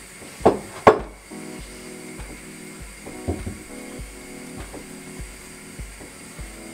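A hand-cranked pasta roller presses wonton dough sheets in a home kitchen, giving steady rhythmic mechanical clicks and creaks with two sharper knocks near the start, fairly quiet throughout.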